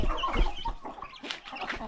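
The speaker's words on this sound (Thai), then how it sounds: "ลูกไก่ชุดเนี้ยประมาณเนี้ยครับ" Young chickens about six weeks old clucking and peeping close by on a Thai farm, a quick run of chirps and clucks over roughly two seconds with no talk.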